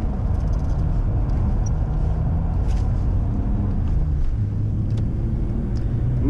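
A BMW E34 engine drones steadily from inside the car while driving, a loud, continuous low rumble with a faint, unchanging tonal hum and no talking.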